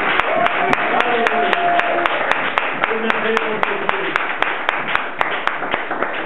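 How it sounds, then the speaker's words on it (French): A congregation at a church service claps in a steady rhythmic beat, sharp regular claps over a dense wash of voices singing and shouting. "Acclamez Jésus."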